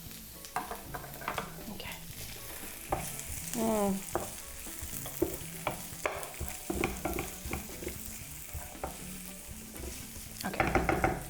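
Green bell pepper sautés in a pan, a constant soft sizzle broken by repeated scraping stirs and light utensil clicks, with one brief spoken word.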